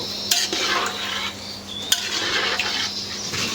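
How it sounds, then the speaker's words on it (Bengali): Fish, big pieces of one to one and a half kilograms each, fried bhuna-style with spices in a pan: steady sizzle and hiss with sharp clinks of a utensil scraping and stirring, close and fairly loud. "এই যে মাছগুলো আমি একটু ভুনা করে নিলাম। মানে মশলাটা ঢুকলো।"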